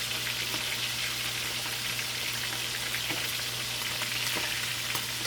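Jamaican fry dumplings (johnny cakes) fry in coconut oil with a steady, dense crackle and fine popping that holds evenly throughout, close up and alone with no talking.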